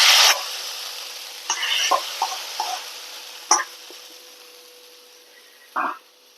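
Shallots fried in coconut oil are poured into a prawn and raw mango curry, giving a short sharp sizzle, then several smaller spits and crackles spaced out over quieter moments, with no talk.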